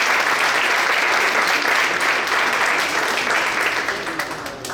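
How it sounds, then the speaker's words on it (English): Sustained audience applause at a student interaction session on arriving and thriving in the US, dense and steady clapping from a sizeable crowd that fills the space, tapering slightly near the end. "I think you deserve a round of applause for saying something."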